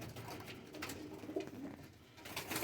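A pair of Sialkoti breed pigeons coo softly and close by, with low, repeated murmuring calls against a quiet background.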